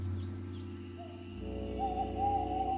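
An owl hoots in a quiet setting against a low steady hum, with soft hooting calls rising toward the end, faint and fairly distant, no voices present.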